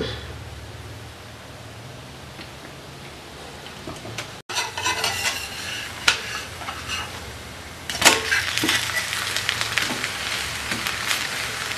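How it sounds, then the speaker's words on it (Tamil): Kara dosai batter with oil on a hot dosa griddle gives a steady hiss that grows busier and crackling after a sharp click midway, close and fairly loud, with no voices. "தோசைக்கல் காயுதுங்க நம்ம வந்து தோசை ஊற்றலாம்"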